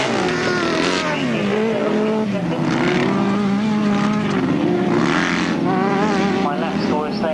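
Grasstrack sidecar motorcycles racing at a 1995 Winchester meeting, engines roaring and whining continuously with rising and falling pitch as machines pass, loud and fairly close, with a commentator talking over the noise.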